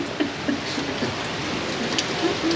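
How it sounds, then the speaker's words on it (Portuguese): Rain falls steadily in a storm at a campsite in Switzerland, a dense hiss of drops with gusting wind and scattered patters on nearby surfaces, with no voices. "A chuva e o vento, essencialmente o vento."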